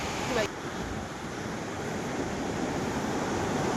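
Continuous roar of surf washing onto Lasikin Beach in Simeulue, broad and steady, mixed with wind buffeting the microphone.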